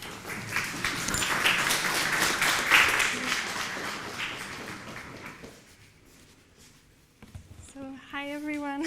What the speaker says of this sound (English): a warm applause to our guest.